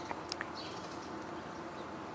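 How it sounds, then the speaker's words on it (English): A house sparrow gives a few short, faint chirps close together near the start, then falls quiet over steady low background hum. "now we're hearing a house sparrow."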